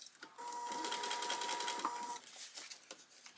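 A sewing machine runs in a quick, faint burst of stitching along a curved tote bag seam, the needle's rapid rhythmic chatter slowing and stopping near the end.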